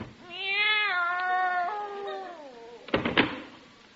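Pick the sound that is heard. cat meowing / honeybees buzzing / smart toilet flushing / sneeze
cat meowing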